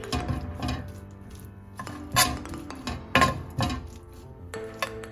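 Beans stir-fry being mixed with coconut oil in a pan, a series of close metallic scrapes and clinks of a utensil against the pan in irregular bursts, with no talk.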